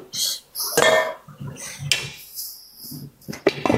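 A cooking pot holding a murgh musallam chicken dish being covered with its lid, giving a few close, sharp metallic clinks and clatters with quieter shuffling between them.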